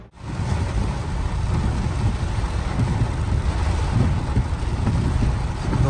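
Steady, heavy rain pours over a Rudrapur market street where vehicles are lined up, giving a dense, continuous wash of noise with a low rumble that stays even throughout.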